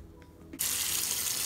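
A kitchen tap is switched on partway through and runs steadily with a loud, close rush of water while mallow (khobeiza) leaves are washed under it.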